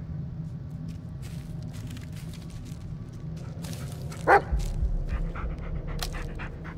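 A dog in the horror game Blair Witch pants steadily, breathy and close, with one short whimpering yelp in the middle and a few faint yips after.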